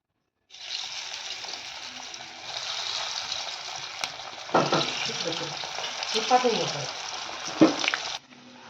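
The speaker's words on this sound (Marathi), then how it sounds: "आता याला आपण डीप फ्राय करून घेऊयात" Sliced kothimbir vadi, coriander fritters, deep fry in hot oil with a steady, close sizzle. Scraping stirring noises and brief clatters break in now and then before the sound cuts off abruptly.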